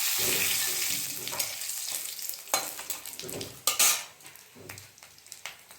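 Cumin seeds, a torn dried red chili and two bay leaves frying in hot oil as a tempering for dal, a steady close sizzle with intermittent bursts of spoon stirring and metal scraping against the pot.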